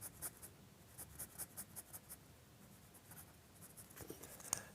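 An HB pencil shades across paper in soft, quiet, rhythmic back-and-forth strokes, about a dozen scratchy sweeps with a brief pause and a final tap.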